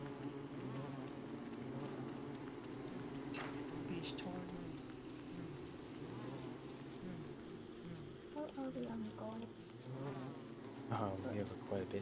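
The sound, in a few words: bees buzzing in video game Don't Starve Together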